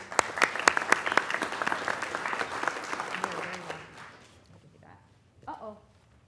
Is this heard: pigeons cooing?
no